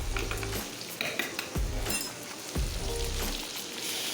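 A spoon scrapes and clinks against a cooking pan while working a spice paste for cabbage, giving several distinct scraping strokes and metallic taps with a low sizzle underneath.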